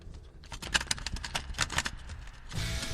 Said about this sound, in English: Does your cassette mechanism make a terrible sound like this when you open it?